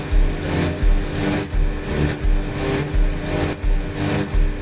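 Revving engine of a car in a car-versus-motorcycle racing video game, loud and continuous with rhythmic surges every second or so as it accelerates to top speed.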